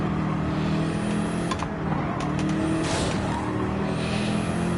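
Race car engine droning steadily at high revs through a rain-soaked lap of Spa in a racing video game, loud and continuous, with brief tire noise as the car runs over a curb and unsettles.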